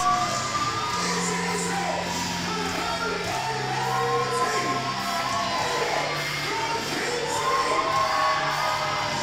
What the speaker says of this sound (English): And the crowd are so excited to see this man.